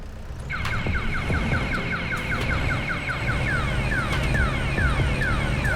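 In Farming Simulator 22, a fast, steady series of electronic reversing beeps repeats over a low, rumbling KAMAZ-5511 truck engine, loud and close throughout.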